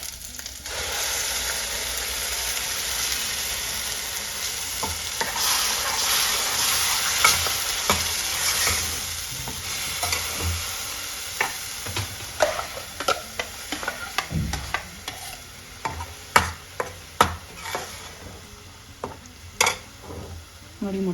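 Ground masala frying with onions in a pan for a village-style egg sambar, a continuous sizzle that turns into sharp clinks and scrapes of a spoon against the pan as stirring picks up.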